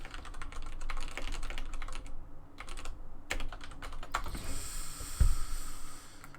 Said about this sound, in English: I need the keyboard for this, don't I?